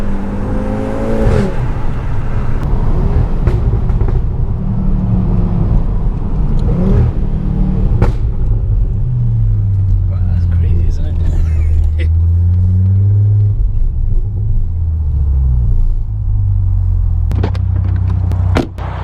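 A 516 bhp Audi RS3 revs while driving, a low rumbling engine note that rises and falls through gear changes, heard up close from the cabin with occasional speech over it.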